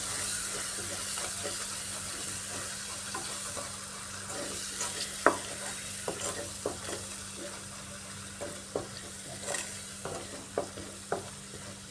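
A spice paste fries in a pan under a soft, steady sizzle while a spoon stirs it in scattered scrapes and taps. A low hum runs underneath and no one speaks.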